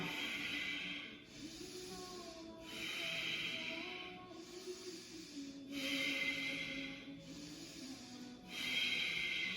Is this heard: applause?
no